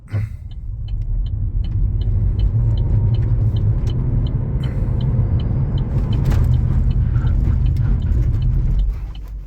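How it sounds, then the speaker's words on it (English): A 2014 Chevrolet Volt accelerating hard, its electric motor and road noise rising in a loud sustained rumble, then braking to a stop under ABS with a pulsing ticking, the sound dropping away at the end. "ABS right to a stop, and the motor even kicked on briefly to help with the hard acceleration."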